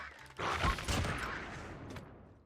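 Light machine gun fire in the mobile shooter Call of Duty Mobile, a short dense burst of rapid shots that swells and then trails off over about two seconds.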